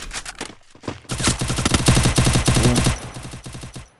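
Rapid bursts of automatic gunfire in a video game played on a phone rattle in quick succession, loud and close, with brief gaps between volleys.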